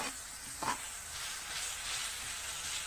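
Onions sauté in hot oil for a Tamil fish curry, giving a soft, steady sizzle and hiss with a brief stir near the start. The sound is faint and close.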